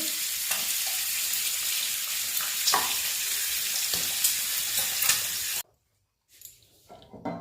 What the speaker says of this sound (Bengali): তেল গরম করতে বসিয়ে দিয়েছি, এটার মধ্যে একটু দিলাম জিরে ফোড়ন